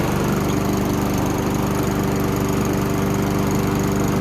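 A Honda HRR216 lawn mower's engine runs steadily at close range, a loud, even droning hum that holds without a break.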